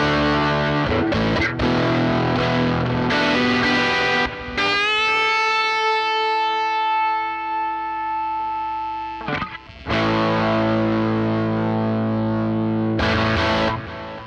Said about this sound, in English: Scene 2 is kind of noisy, but that's what the optical sustainer does.